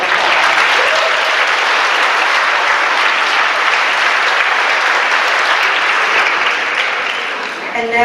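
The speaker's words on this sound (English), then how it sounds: "Let's give all of our award winners another round of applause." An audience at a high school honors night gives award winners a loud, sustained round of applause that holds steady for several seconds and then tapers off near the end.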